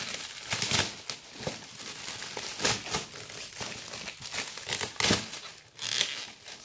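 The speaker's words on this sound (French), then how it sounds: "On va ouvrir le deuxième cadeau. Vas-y, essaye de l'ouvrir." A child tears open a birthday present, and the wrapping paper crinkles and rips nearby in steady, uneven bursts, with no talking while the paper is being pulled apart.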